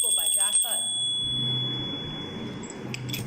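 A hand bell rings once at a protest rally, its bright metallic tone ringing out and slowly fading while someone speaks at the start.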